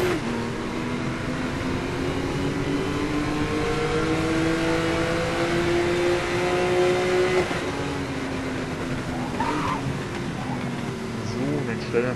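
A car engine in the Need for Speed Most Wanted video game hums and revs steadily, its pitch rising and falling, under someone speaking throughout.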